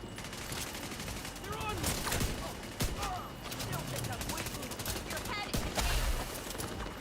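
Gunfire rattles in the video game The Division 2, with rapid bursts and scattered single shots over a constant bed of in-game noise and voices, fairly loud throughout.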